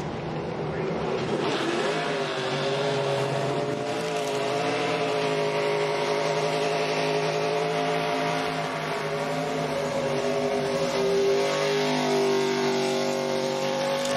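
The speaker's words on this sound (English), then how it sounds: "I would call that like the Kevin Harvick burnout." An ARCA Menards Series race car does a victory burnout at Mid-Ohio after the Dawn 150, its engine holding a loud, sustained high-revving drone with slight pitch wobbles for over ten seconds.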